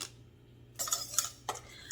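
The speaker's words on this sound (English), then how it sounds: "I am currently whisking in the color." Powdered color being whisked into baking soda for bath bombs in a bowl: after a short quiet spell, a few bursts of scraping, rattling whisk strokes against the container, close and moderately loud.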